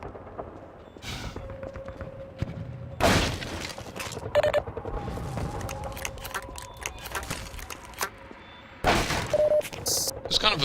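Rocket launcher blasts in Half-Life 2: Episode Two mod RoofTopVille, several loud booming explosions with crumbling debris spaced across the fight, set against game ambience with a voice talking between them.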